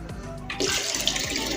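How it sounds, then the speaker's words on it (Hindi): Water gushes and splashes steadily into a cooking pot of haleem mixture, a close, continuous pour lasting under two seconds. "पानी जो है वो मैं तकरीबन 3 लीटर इसके अंदर डालूंगी।"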